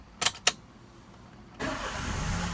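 A 2012 Daihatsu Xenia D 1.0 with manual transmission starts up: two sharp clicks from the key come first, then the engine catches and settles into a steady, close idle with no voices.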